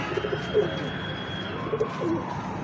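Pigeons coo softly nearby in a few short, low, throaty calls spaced through a quiet background hum, with no talking.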